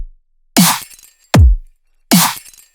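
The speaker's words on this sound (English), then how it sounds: "So here we have the drums." Three heavy dubstep drum hits land one after another, each a loud, punchy burst with a deep low thump and a bright crashing top, separated by silence.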